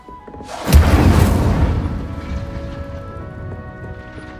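A fire spell cast in Hogwarts Legacy bursts out with a sudden whooshing boom, followed by a crackling, roaring flame that slowly fades over the next few seconds.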